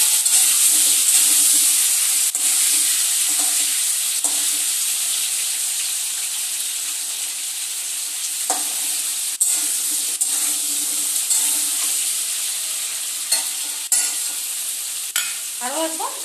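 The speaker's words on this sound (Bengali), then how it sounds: "ঢাকনাটা সরিয়ে একবার আলুগুলোকে নাড়া দিয়ে দেবো।" Potatoes fry in a pan with a steady, close sizzle, broken by several scraping stirs and soft knocks of a utensil; no one speaks.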